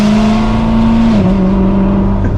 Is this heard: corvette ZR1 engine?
yes